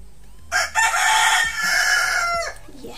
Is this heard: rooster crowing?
yes